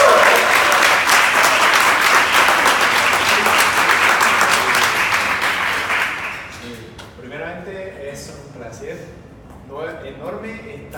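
Loud audience applause at a Spanish-language mentoring event in Sao Paulo, dense clapping for about six seconds before fading into someone speaking.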